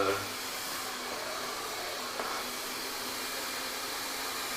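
A hair dryer fitted with a nozzle blows a steady, close, continuous whoosh while hair is dried over a round brush during a long layered haircut, with no talking.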